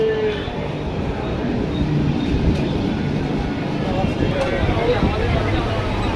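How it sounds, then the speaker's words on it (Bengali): Bandel railway station platform gives a busy, rumbling ambience with crowd murmur, distant train noise and occasional clanks, with people talking nearby. "তো আমরা চলে এসেছি এখন ব্যান্ডেল স্টেশনে"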